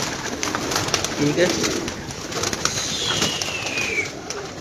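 Captive pigeons cooing softly near the listener, amid steady background noise, while a person speaks briefly.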